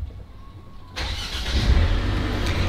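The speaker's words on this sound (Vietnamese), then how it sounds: "khi mà chúng ta nổ máy lên á" A Mercedes C300 AMG engine starts up: a quiet cabin with a faint tone gives way to a sudden broadband crank and catch at about one second, then settles into a steady, fairly loud idle rumble close by.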